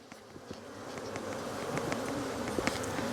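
Honeybees buzz loudly and close as they are shaken down into the lower hive box, a rising swarm drone with sharp knocks and thumps from the frames scattered through it.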